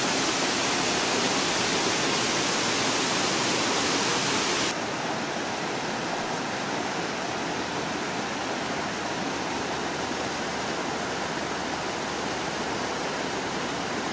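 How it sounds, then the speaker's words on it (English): Loud, constant roar of spring water gushing from the springs of Mount Hermon, a thick unbroken rush close by that holds steady from start to finish. "Water gushing out."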